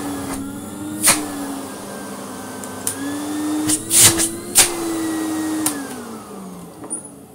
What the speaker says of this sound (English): One happy vintage vacuum.